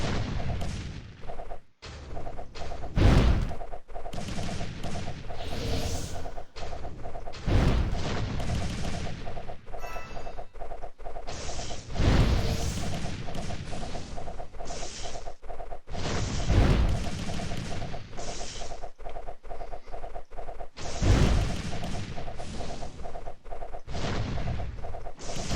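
Cannon fire in the tower-defense game Idle Kingdom Defense, a steady barrage of heavy booming shots every few seconds over continuous clattering battle noise, loud and close, with no talking.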